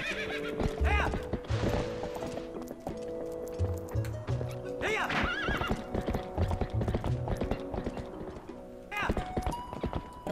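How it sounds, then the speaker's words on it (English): Horse hooves clip-clop and a horse neighs repeatedly in The Legend of Zelda: Twilight Princess HD, with game music and effects running steadily underneath. "Horse."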